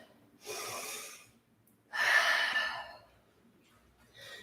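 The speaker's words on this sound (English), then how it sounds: "Take deep breaths." Deep breathing in a yoga child's pose: two loud, close breaths a little over a second each with quiet pauses between them, and the start of a third breath at the end.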